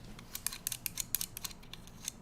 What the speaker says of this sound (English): The buttons are almost like this